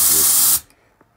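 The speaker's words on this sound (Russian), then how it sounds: "Так, пока идет воздух, ничего больше не идет." Compressed air rushing from a paint spray gun in a loud, steady hiss that cuts off abruptly after about half a second, leaving near silence with a faint click.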